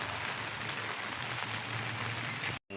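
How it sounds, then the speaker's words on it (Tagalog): Rain falls steadily outdoors, a soft, even hiss of drops on surfaces heard close and unbroken, ending in a sudden short cutoff. "Umulan po rito sa amin."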